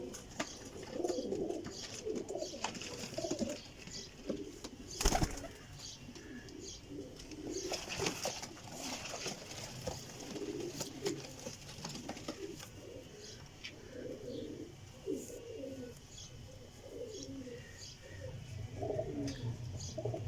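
Flock of homing pigeons, including golden males and females, cooing in soft, repeated low phrases throughout, with occasional clatter and a sharp knock midway; a faint voice is heard at times.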